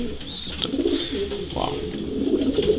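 Racing pigeons in a loft coo with low, throaty rolling calls that repeat steadily at close range. A few higher chirps and faint background noise sit over them, and no one speaks.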